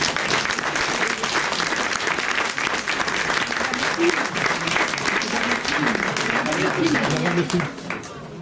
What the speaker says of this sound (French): On peut l'applaudir, elle n'est pas là, mais on peut l'applaudir.